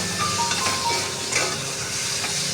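Fried potatoes going into a pan of hot spice masala with oil and torn green chillies, giving a steady soft sizzle with faint stirring scrapes, fairly close and without talk.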